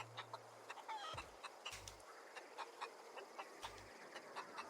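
Short, scattered clucks from a rooster in the video game The Outer Worlds repeat irregularly, quiet and close, over soft ambient game noise with occasional low thumps and no talking.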